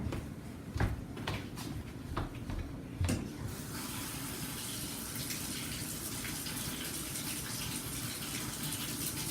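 Water runs from a tap to fill a cup during a camp lab activity, a soft steady gushing stream after a few brief knocks and clatters at the start, quiet and close with no talking.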